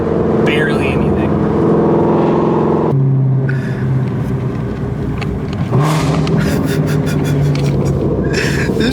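Shelby GT350R running on E85 and cruising in sixth gear, a loud continuous low drone that abruptly drops to a quieter tone, then steps back up, with people talking over it throughout.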